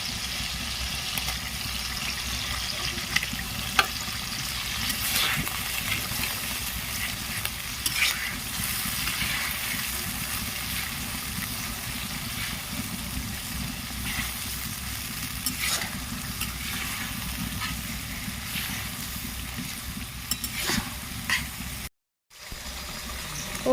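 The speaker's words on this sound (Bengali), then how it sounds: "মশলাটা আমার কষানো হয়ে গেছে, এবার দিয়ে দিচ্ছি আদা রসুনের পেস্ট।" Ginger garlic paste sizzles in hot oil with spices in a pan for a Bengali chicken and potato curry, a steady close-up frying hiss with occasional stirring scrapes and no talking.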